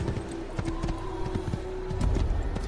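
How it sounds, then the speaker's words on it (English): Horse hooves clip-clop at a gallop in Assassin's Creed, a steady rapid drumming of hoofbeats over game ambience, fairly loud and continuous with no talking. "Let's get on a horse and speed this shit up."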